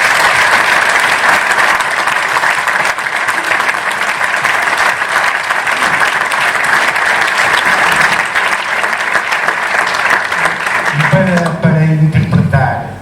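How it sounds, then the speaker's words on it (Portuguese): Steady, dense applause from a large audience at a FC Porto club day event, loud and continuous throughout, with a voice briefly coming through as it winds down near the end. "Uma salva de palmas"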